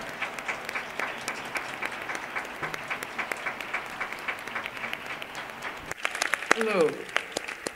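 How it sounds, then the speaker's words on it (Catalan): Audience applause welcoming Dr. Angela Davis at an evening talk on racism, steady and moderately distant, with a voice rising briefly near the end. "Anem a rebre amb un fort aplaudiment a la doctora Angela Davis."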